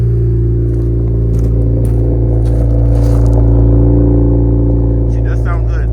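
An Acura Integra with a Remark exhaust runs with a steady, deep droning rumble heard from outside, while voices talk briefly over it.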